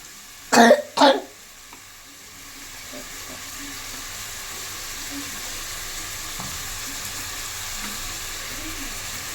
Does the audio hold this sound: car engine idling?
no